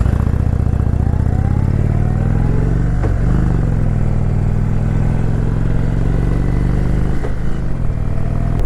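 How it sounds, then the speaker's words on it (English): A motorcycle rides along at steady speed, with a loud, continuous engine drone close by and a couple of brief shifts in pitch. "This bike is just so much fun to ride around on."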